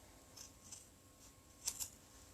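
Scissors snip through the ribbon tab of a machine-embroidered 5x7 in-the-hoop lined zipper bag, giving a few faint, crisp cuts followed by a louder double snip near the end, with no talking.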